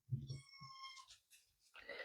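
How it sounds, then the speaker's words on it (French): A small cat meows unhappily indoors, one clear drawn-out meow in the middle with breathy sounds around it, quiet and close, with faint talking nearby. "Petit chat n'est pas content."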